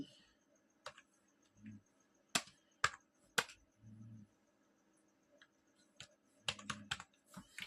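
Sparse, quiet keystrokes on a computer keyboard entering a company address into Tally ERP 9 accounting software, with irregular single taps and short clustered bursts over a faint steady background hum.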